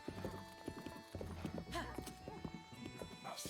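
Horse hooves clip-clop in the video game The Legend of Zelda: Breath of the Wild as an unbroken horse trots, with a whinny near the end and someone talking over the footfalls.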